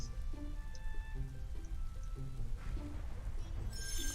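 Steady rain weather in a Pokémon video game battle, a continuous wash of falling drops and patter that runs unbroken throughout, with faint game music tones layered over it.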